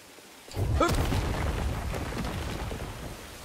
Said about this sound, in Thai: โอ้ฝนตกเต็มเลย